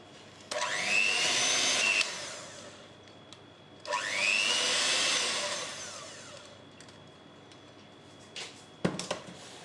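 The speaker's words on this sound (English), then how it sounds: "beat that on a low speed with a hand mixer for about 1 minute, and then on high for another 2 minutes" A hand mixer whirs through red velvet cake batter in two loud bursts, its motor pitch rising as it speeds up, then falls silent apart from a few clatters at the end.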